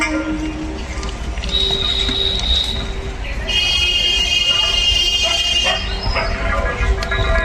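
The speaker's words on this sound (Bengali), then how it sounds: "আমাদের ট্রেন প্রবেশ করছে বারাসাত বনগা লোকাল, প্রবেশ করছে বারাসাত স্টেশনের 5 নম্বর প্ল্যাটফর্ম থেকে" The Barasat–Bangaon local pulls into platform 5 at Barasat station with a steady rumbling roar and rising metallic screeching tones, loud and close amid station noise.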